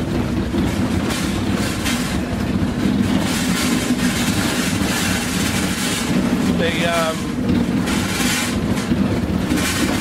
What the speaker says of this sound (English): And we're driving down the road, and things are rattling certainly